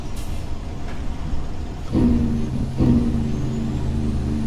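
An American Truck Simulator rig hauling an oilfield lowboy slows on full Jake brake, a low rumbling engine drone broken by two loud, throaty braking blasts about a second apart, near and without talk.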